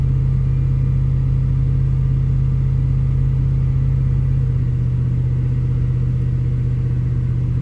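A 1998 Ford F-150 engine running lean with a rough idle, held steady at about 2000 RPM: a constant low droning hum, close and loud, with no speech.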